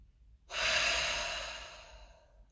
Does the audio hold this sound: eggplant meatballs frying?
no